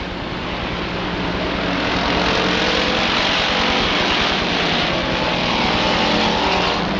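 Race cars circle Rockford Speedway in a dense, sustained, loud engine drone that holds at a steady pitch and rises slightly as the pack passes, with no talk.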